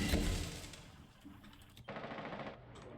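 Rapid gunfire from the Rainbow Six Siege video game during a college esports match, rattling bursts of shots and clatter at moderate level, busy and continuous with a brief break midway.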